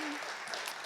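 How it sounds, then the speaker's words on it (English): A panel audience applauding at a community workforce event, a brief burst of clapping that is already under way and is heard alone. "Let's give them all a round of applause"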